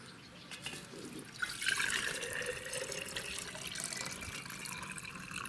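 Water pours out of a fogger nozzle into a container for measuring its flow, a steady splashing trickle that rises after a soft start and runs on evenly, close but fairly quiet.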